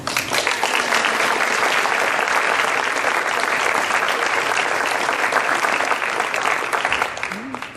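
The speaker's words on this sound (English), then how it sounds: "let's give her a warm applause to Amelie." Sustained applause from a crowd at a cross-country awards ceremony, loud and steady throughout, with clapping filling the space and no pauses.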